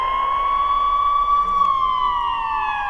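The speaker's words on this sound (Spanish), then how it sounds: "A lo lejos se escuchó el ulular de una sirena." A wailing siren sounds in the distance, a single steady tone that slowly sweeps and drifts downward over a faint background hum, with no voices.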